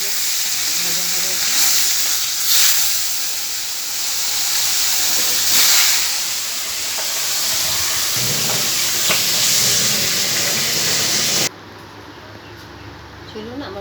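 Fish seasoned with turmeric and salt fries loudly in a pan, a dense continuous sizzle and hiss with small swells, dropping suddenly quieter near the end.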